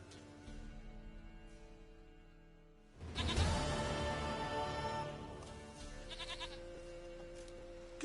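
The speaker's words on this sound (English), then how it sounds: "Goat of mine, dearest, sweetest goat." A goat bleats in a PS4 video game, a loud, wavering cry that breaks out suddenly partway through, over a quiet musical background.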